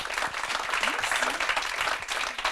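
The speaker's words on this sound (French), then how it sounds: "On peut les applaudir à nouveau." Indoor applause from an audience at a school event celebrating pupils' paintings at the Ovide Leroy school, a dense, even clatter of many hands clapping together for a couple of seconds.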